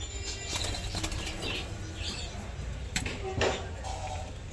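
A pair of frightened captive diamond doves scurry about, their wings giving several quick flapping bursts and rustles over a soft, close background.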